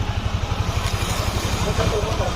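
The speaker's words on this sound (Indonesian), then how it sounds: "sekarang dengerin mesinnya udah lembut" A rebuilt Yamaha Aerox 155 scooter engine idles smoothly with an even, rapid pulsing putter, close by and steady.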